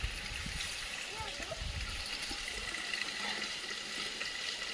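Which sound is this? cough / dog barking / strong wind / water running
water running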